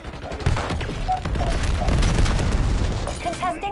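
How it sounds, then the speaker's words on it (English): A frag grenade goes off during a Hardpoint match in Call of Duty BO7, a booming burst folded into steady rattling gunfire and dense combat noise throughout. "Throwing frag."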